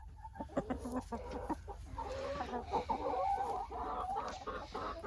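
A hen clucks and murmurs close by in short repeated bursts, with low chicken chatter continuing steadily.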